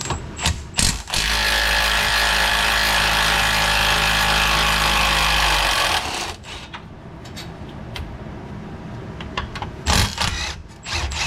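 A power ratchet buzzes loud and steady for several seconds as it backs out brake caliper bracket bolts on a Pontiac G8 during a CTS-V big brake upgrade, followed by clanks of tools and metal parts being handled.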